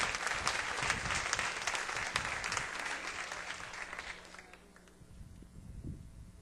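Church congregation applauding after a sermon, dense steady clapping that fills the room, then thins and fades away near the end.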